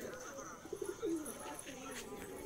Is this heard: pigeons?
yes